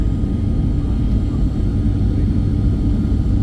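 Low, continuous engine rumble of an airplane heard from inside the cabin, steady and loud with no breaks, as the aircraft descends toward Nedumbassery (Kochi) International Airport.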